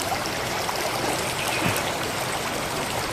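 Water from a forest spring streams and gurgles in a steady, fairly loud rush that continues unbroken throughout, with no voices.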